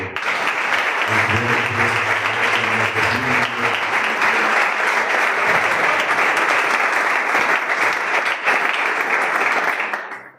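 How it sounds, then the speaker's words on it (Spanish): A church convention crowd applauds loudly and steadily for about ten seconds, a dense wash of clapping that fades out at the end. "puede darle un fuerte aplauso"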